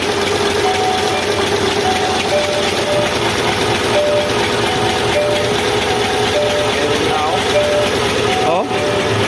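Isuzu 10PE1 diesel engine running after an overhaul, a loud, continuous rumbling idle with a steady mechanical clatter, close by, while people talk faintly in the background.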